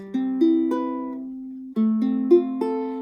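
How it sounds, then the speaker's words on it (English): A cedar ukulele is plucked note by note, clear bright tones ringing out and decaying, with a short pause mid-phrase before more notes follow. "the sound of this ukulele is very clear"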